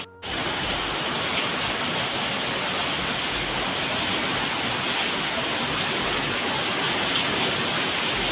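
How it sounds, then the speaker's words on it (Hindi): Heavy monsoon rain pours onto a flooded apartment balcony, a loud, steady, unbroken hiss with a short break at the very start, and no voices. "ऐसा बारिश आज फर्स्ट डे यहाँ पे हो रहा है इस सीज़न का"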